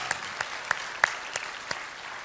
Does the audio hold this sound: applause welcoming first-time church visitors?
yes